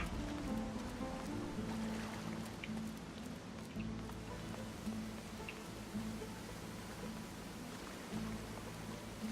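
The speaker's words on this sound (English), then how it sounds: "Always been fond of underground waterfalls" Underground waterfall in the fantasy role-playing video game Divinity Original Sin 2, a steady faint rushing wash of water with a low constant hum underneath, heard alone.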